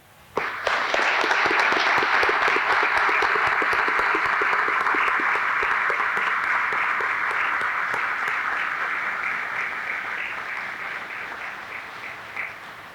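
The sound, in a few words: audience applause for departing commander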